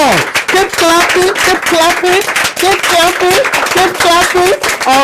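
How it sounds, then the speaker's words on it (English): Studio audience applauding three guests on an African online talk show, dense continuous clapping throughout, with a loud voice speaking over the applause. "Please just give them a round of applause."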